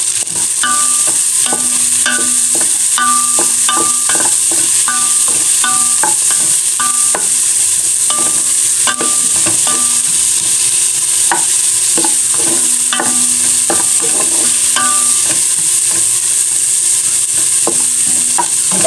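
Garlic and onion sauté in a pan with a loud, steady sizzle throughout, broken by frequent scraping and clinking of a spoon stirring near the pan, with no voices.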